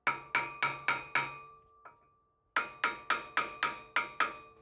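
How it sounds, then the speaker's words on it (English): A brass hammer taps the edge of a Toyota Land Cruiser 100 Series front wheel hub in quick metallic strikes, five in a run, a lone lighter tap, then about eight more, each ringing briefly, close and clear. "you might want to have a few gentle taps on the edge of the hub with a brass hammer"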